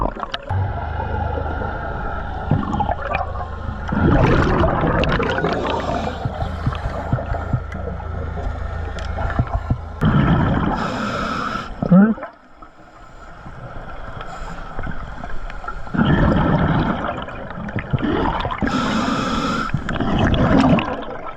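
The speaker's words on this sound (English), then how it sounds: "I'm just going to put a little shot of air to get these bags upright" Underwater bursts of rushing, bubbling air filling lift bags at 80 feet come in several loud surges over a constant murky background hum, with quieter gaps between.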